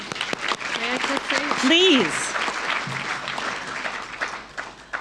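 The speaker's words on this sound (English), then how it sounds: "this applause shouldn't be just for Florence and me" Audience applause at an ALS Schweiz support event, a sustained crowd clapping under a voice that speaks over it briefly, the clapping swelling and then thinning toward the end.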